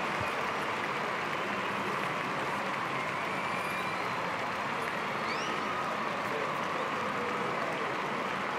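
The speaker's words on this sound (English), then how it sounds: "Please give the players a warm round of applause." Steady crowd applause fills a Wimbledon stadium in the tennis video game Top Spin 2K25, a dense, even clapping wash that holds unbroken and alone the whole time.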